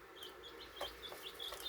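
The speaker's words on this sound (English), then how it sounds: "Little chickens with a roosting bar." Five-day-old chicks in a brooder with a roosting bar give a string of soft, high peeps and chirps at close range, faint and repeated without any talking.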